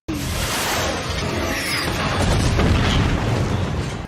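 A loud, sustained explosive roar of a race car blowing up in the film Death Race, with crackling debris and rumble, continuous for several seconds and swelling toward the end.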